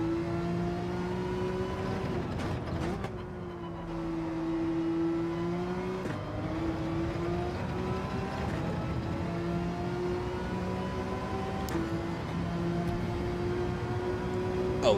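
Porsche race car engine in a GT racing video game, a loud sustained engine note that swells and dips in pitch as the throttle is worked, with a brief lift and re-rev, no talking.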